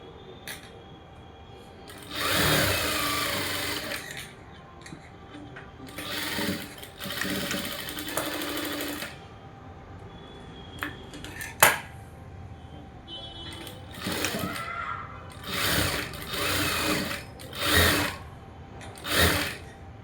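A sewing machine stitches a lined blouse in several short bursts of running, each a few seconds long, separated by pauses with a sharp click in between; close and clear, no talk.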